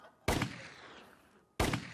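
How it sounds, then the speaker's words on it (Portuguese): Two sharp, loud shotgun blasts fired during a hunt, spaced about a second and a half apart, each followed by a rolling outdoor echo that decays slowly. "2 tiros. 3."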